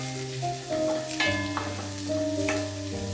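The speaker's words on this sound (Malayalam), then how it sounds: "ഇതിലേക്ക് നമ്മള് കട്ട് ചെയ്ത് വെച്ചിട്ടുള്ള ഉള്ളിത്തണ്ടിന്റെ വെളുത്ത ഭാഗം ഇടുന്നുണ്ട് അതിട്ടിട്ട് ഒന്ന് ചെറുതായിട്ടൊന്ന് ഫ്രൈ ചെയ്യാം" White parts of spring onion frying in butter in a pan for sweet corn soup, a soft, steady sizzle with a few clicks and light tonal hum in the background.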